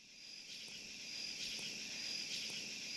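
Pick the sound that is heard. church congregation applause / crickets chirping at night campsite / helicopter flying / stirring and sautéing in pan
crickets chirping at night campsite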